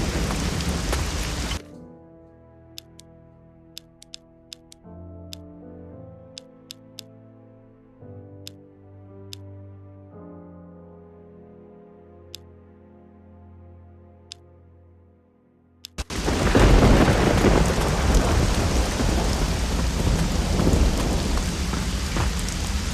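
Heavy rain in the Risen 2: Dark Waters video game, loud and dense at the start, then a long quiet stretch of soft tonal music with faint ticks before a roaring downpour returns.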